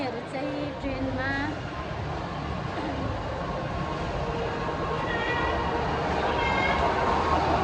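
A toy train ride in a shopping mall rumbles along steadily with faint tonal whistle-like sounds over a busy indoor crowd, and voices chatter throughout.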